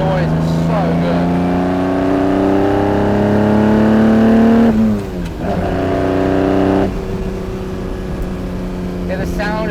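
A Ferrari 250 GT Berlinetta Lusso's engine revs up hard from inside the car, rising in pitch, dropping briefly at a gear change, then climbing again, loud and aggressive throughout with a steady throaty drone.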